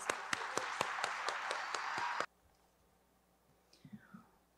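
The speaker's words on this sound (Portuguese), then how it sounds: "Uma salva de palmas." A small conference audience at a clinical psychology congress claps in a brief, sparse burst of distinct, evenly spaced claps lasting about two seconds, then stops abruptly, followed by near silence and a faint voice.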